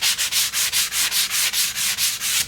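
A sanding block is rubbed by hand over the edges of wooden floating-shelf pieces in a steady back-and-forth rhythm, about a dozen close, even, scratchy strokes with no talk.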